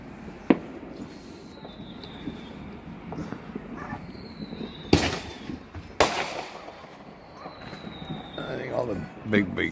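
Fireworks go off outdoors with several sharp, loud bangs and pops spread across the stretch, some near and some farther off, with whistling streaks and people talking underneath.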